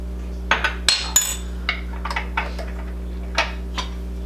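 Chili ingredients stirred in a pot, a run of sharp metallic scrapes and clinks from the spoon against the pot, some close and loud, over a steady low hum.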